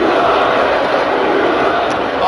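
A live wrestling event crowd in Manchester fills the space with a dense, loud roar of disapproval, steady throughout with no pauses.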